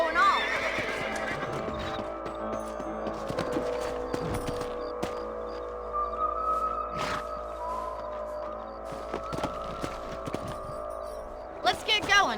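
Horses in the Western video game Red Dead Redemption, loud whinnies and neighs over clip-clopping hooves, with people talking throughout and a game music bed underneath.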